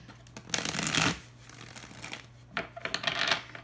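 Tarot deck being shuffled by hand, two soft bursts of riffling and rubbing card noise separated by a quiet pause, close and fairly quiet, with no talking.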